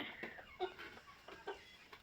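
Soft, scattered clucks from chickens nearby, a few short calls spaced out over quiet background noise.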